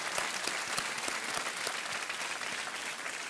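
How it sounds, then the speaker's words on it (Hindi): Studio audience on a Hindi-language Kaun Banega Crorepati game show episode with Shah Rukh Khan and Katrina Kaif bursts into dense, sustained applause, steady and loud throughout with no talk over it. "एक बार तालियों के साथ अभिनंदन सुमित अवस्थी जी"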